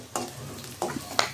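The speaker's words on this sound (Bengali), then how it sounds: "এখানে আমি একটু ভাজা দিয়ে নিব" Onions and green chilies frying in mustard oil, with a steady sizzle broken by a few sharp scraping stirs of a spoon in the pan, close up, no talking.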